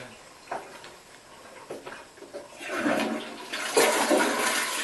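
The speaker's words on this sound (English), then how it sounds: "You kind of forget how easy a toilet is to flush." A push-button toilet flushes in a New York bathroom, a few soft clicks and taps first, then a loud rushing swirl of water that builds and carries to the end.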